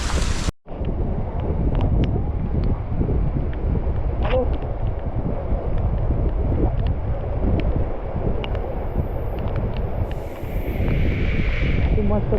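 Strong wind roars steadily across the microphone on a misty hillside at Matheran during heavy monsoon rain, a loud continuous buffeting rumble that runs through the whole stretch after a brief dropout at the start.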